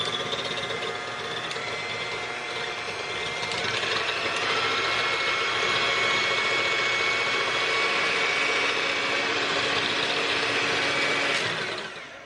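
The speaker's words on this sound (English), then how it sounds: "I am just going to start whisking it" Ingredients whisked in a bowl with a little milk on top, a steady continuous scraping and clicking churn that carries on for about twelve seconds, close up and fairly loud, with no talking.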